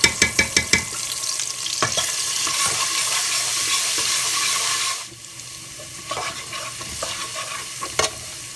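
Whole garam masala, broken mace and ginger-garlic paste hit hot oil in a pan, opening with a few sharp clinks and scrapes, then a loud, steady sizzle that drops off abruptly and continues more quietly with occasional taps.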